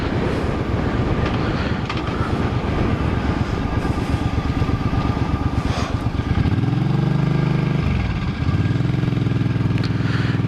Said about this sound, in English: You can hear the motor just runs really good.